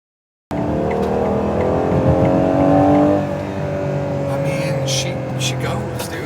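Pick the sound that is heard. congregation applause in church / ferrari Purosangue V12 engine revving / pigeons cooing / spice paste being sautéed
ferrari Purosangue V12 engine revving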